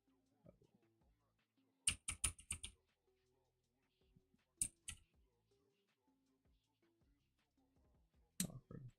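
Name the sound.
typing on a computer keyboard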